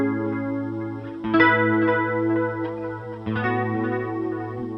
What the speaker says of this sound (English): then I have a chorus set up for after all that.